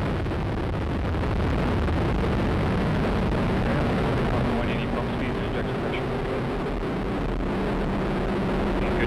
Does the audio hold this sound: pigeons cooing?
no